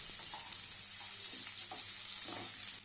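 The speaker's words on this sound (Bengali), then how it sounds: "এখন পেঁয়াজের সাথে আলুটাকেও খুব ভালোভাবে ভেজে নিতে হবে।" Potatoes and onions fry in a pan for a small-fish curry, a soft, steady sizzle with a few gentle stirring scrapes scattered through, quiet and close, no talking.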